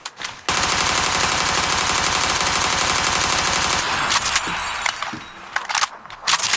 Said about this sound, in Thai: เลือกปืนสักหน่อยนะครับลองยิงลองอะไรดู